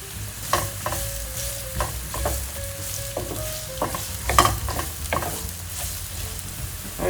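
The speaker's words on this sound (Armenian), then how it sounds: "Կերակը շատ բարձր չենք անում, տապակում ենք մի քանի րոպե մինչև փափկելը։" Onion and carrot fry over moderate heat in a pan for a rice and lentil pilaf, a soft steady sizzle punctuated by rhythmic spatula scrapes and taps, close and without speech.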